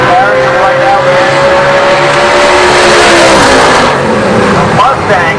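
A Mustang drag car roars down the strip at full throttle, a loud sustained engine scream with rising pitch over steady crowd and track ambience, with an announcer talking throughout.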